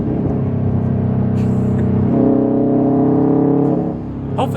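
A new Subaru WRX engine heard from inside while driving, a loud steady drone that climbs in pitch as it revs, then eases off toward the end, with no talking.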